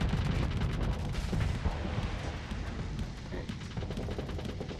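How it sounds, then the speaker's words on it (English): In the video game Long Haul, flashbang explosions go off in a dense, rapid barrage of booming, crackling bursts that overlap into a loud rumbling roar throughout, with no clear gaps. "I apologize for the flashbangs"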